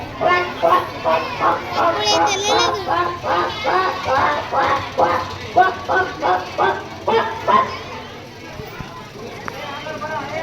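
At a school talent event, a voice repeatedly imitates a chicken's clucking and cackling in rapid rhythmic bursts, about a dozen calls, close and loud.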